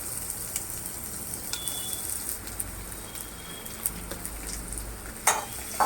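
Chopped onions fry in oil with whole red chillies and bay leaves, giving a steady close sizzle broken by small pops and faint scrapes of stirring, with no one speaking.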